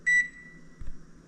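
A microwave oven gives a single short electronic beep as its timer is set. Then come a few soft clunks and handling noises close by, with no voices.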